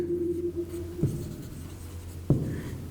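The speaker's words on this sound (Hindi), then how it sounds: "अब मैं दूसरे तरीके से लिखता हूँ" Marker or chalk scratching across a board during an accounting lecture, a steady close scrawl broken by two sharp taps, with no talk over it.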